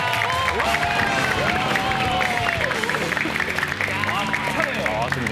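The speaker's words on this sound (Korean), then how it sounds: "큰 박수로 환영합니다." A studio audience on a Korean TV show claps and cheers to welcome military and sports star teams, loud and dense, with music and tonal effects layered over the crowd noise.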